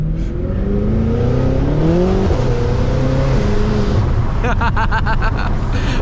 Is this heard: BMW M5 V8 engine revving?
yes